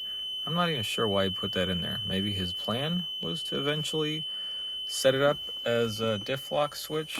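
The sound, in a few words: car warning beeping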